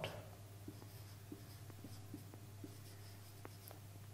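A sentence being written by hand during an English lesson, with faint, scratchy pen or chalk strokes in short taps and scrapes over a low steady hum, quiet and close, with no talking.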